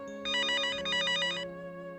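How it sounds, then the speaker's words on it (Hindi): An incoming call sets a phone ringing indoors: two quick bursts of bright electronic trilling, clear and fairly loud, over a steady background hum with no voices. "आ गया सिमरन का फोन।"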